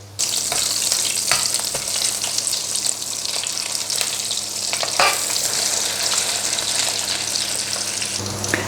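Schnitzels frying in a pan give off a loud, steady sizzle that runs unbroken, with a few brief clinks and sharper pops along the way.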